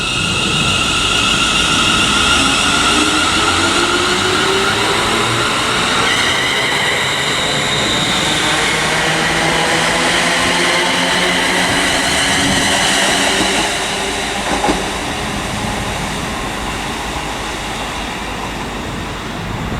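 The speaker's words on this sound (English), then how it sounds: "departing now is the 380-111 on the 10:40 ScotRail service to Ayr" A ScotRail Class 380 electric unit pulls out of Paisley Gilmour Street station on a service to Ayr, with a sustained rising motor whine, wheel squeal and rail noise that fades slowly as it leaves, with no talk.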